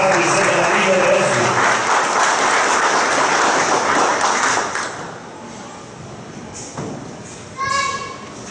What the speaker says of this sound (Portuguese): Recebemos com uma salva de palmas o Tenente-Coronel Jean Rodrigues Oliveira